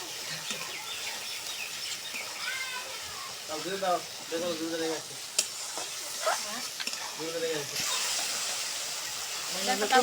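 Spice paste for chicken curry fries in oil with a steady, textured sizzle and stirring, while a voice talks over it throughout.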